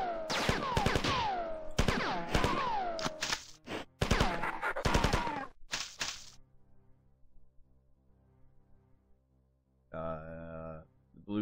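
Enemies fire projectiles in the Marathon video game, with bursts of rapid, sharp electronic shots in quick clusters. A pause follows, then another short burst near the end.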